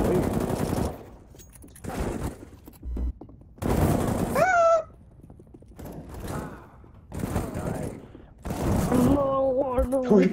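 Bursts of automatic gunfire from the video game Operación T.I.N.A., loud and repeated in several volleys with short gaps, with a person talking excitedly between the shots.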